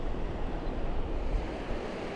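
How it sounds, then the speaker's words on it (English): Ocean waves and swell wash continuously against the coast at Hervey Bay, mixed with steady wind buffeting the microphone, loud and unbroken with no voices. "There's a few waves, a bit of swell, a bit of wind."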